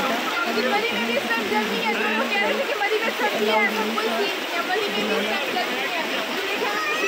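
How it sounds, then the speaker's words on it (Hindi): Loud, steady rushing water roars continuously in the mountains, like a nearby torrent, with a voice faintly talking beneath the noise. "पानी का इतना शोर था"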